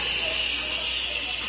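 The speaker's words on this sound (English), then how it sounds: "I'm just going to pull this lever close to me and that's gonna let out all the steam" Steam hisses steadily from an Instant Pot's quick pressure release valve, a loud, continuous high rush lasting the whole stretch without pause.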